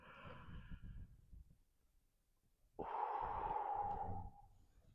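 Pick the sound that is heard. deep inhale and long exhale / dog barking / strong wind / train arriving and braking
deep inhale and long exhale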